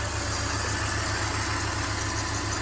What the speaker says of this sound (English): it's this chirping sound, there's ticking sound